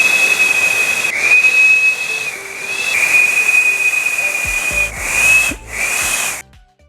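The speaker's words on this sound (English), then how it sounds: "Believe it or not, I'm actually starting to get some sound with the whistle." A finger-made taxi whistle, a shrill steady tone held for a couple of seconds at a time in three or four blasts, loud and close over airy breath hiss, with no talking.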